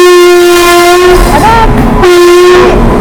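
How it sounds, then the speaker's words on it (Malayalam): A long Indian goods train passes close by, its horn blaring loud and sustained across the whole stretch with a brief dip midway, over the heavy rumble of the wagons. "വലിയ നീളമുള്ള ട്രെയിൻ."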